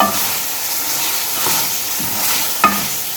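Three green chilies are being fried in a karahi for a butt karahi dish, with a steady loud sizzle and hiss and soft stirring scrapes, plus one sharp clack near the end.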